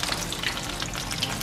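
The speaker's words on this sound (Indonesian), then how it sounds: "bandeng kita udah menggoreng, luarnya ada coating crispy-nya" Milkfish coated in a crispy batter frying in very hot oil, a steady close sizzle and crackle filling the whole clip with no talk.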